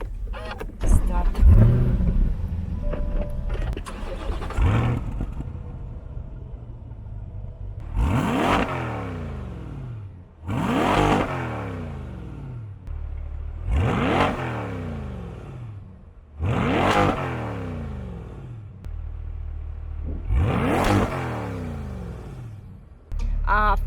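A 2021 Chevrolet Corvette C8 engine fires up loudly, then roars through a series of about six sharp revs that climb and fall back at a steady rhythm, heard up close with no one talking.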